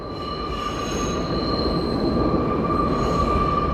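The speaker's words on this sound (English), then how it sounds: "thanks to the screeching Toronto subway" Toronto subway train wheels squeal steadily and loudly against the rails, a sustained high metallic screech over the deep rumble of the moving train, with no voices.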